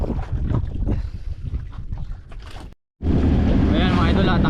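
Strong wind roars and buffets the microphone over churning sea water, broken by a brief dropout before the gusty rush resumes.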